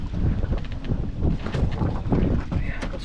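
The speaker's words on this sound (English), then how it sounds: "Oh, now the wind's starting to pick up." Wind rising over the St Lucie River while crabbing from a boat, a loud, continuous rumbling rush buffeting the microphone with irregular gusts, water and boat noise mixed in, and no clear speech.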